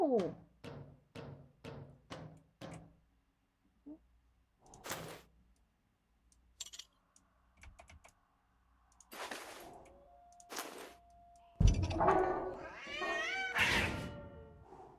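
Cat meows and caterwauls from a horror video game about fixing a radio tower while avoiding a monster: a quick run of short repeated cries, then drawn-out, wavering yowls with a few clicks and thumps in between.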